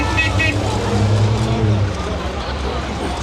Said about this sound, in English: Ah, here come the vintage cars.